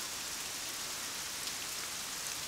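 Steady rain pouring down outdoors as runoff water flows across the ground, a continuous close hiss of drops with no let-up and no voices.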